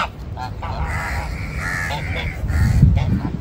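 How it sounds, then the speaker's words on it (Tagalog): Several crows caw repeatedly in an open outdoor setting, with harsh calls overlapping. Geese honk nearby, and a low murmur of background activity runs underneath. "Mga uwak."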